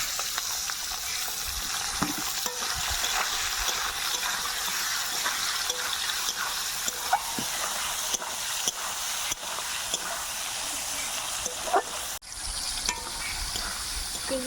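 Prawns sizzling and frying in a hot pan with spices, a steady crackling hiss with occasional stirring scrapes and sharp spikes, close and continuous with no talking.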